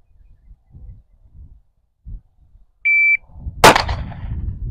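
One sharp gunshot cracks out loud and close at a shooting test, following quiet murmuring and a short electronic beep from a shot timer, with low rumbling noise afterward.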